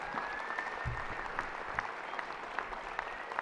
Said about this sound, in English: please join me with your applause and cheers in congratulating the graduates of 2012.